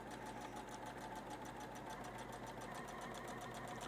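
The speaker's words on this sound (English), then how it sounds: "Now I'm gonna lower my presser foot and I'm gonna stitch on this side," Sewing machine stitching a 1/4 inch seam through batik quilting fabric with the presser foot lowered, a steady, continuous, fast mechanical hum with rapid even needle ticking close by, running alone without pause.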